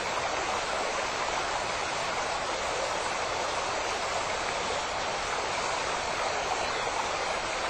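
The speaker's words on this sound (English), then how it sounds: "relaxing to the soothing murmur of Stevens Creek" Steady, even rush of Stevens Creek flowing, a continuous broad murmur of water with no breaks, moderately loud and close, with no voices.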